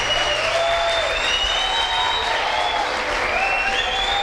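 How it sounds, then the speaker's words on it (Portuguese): An audience at a youth congress workshop claps continuously at a steady, fairly loud level, with some faint higher tones running beneath the clapping. "Por favor, mais aplausos"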